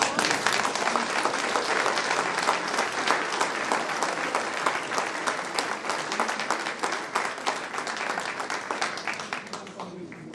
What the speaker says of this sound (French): rien que ça, ça vaut des applaudissements.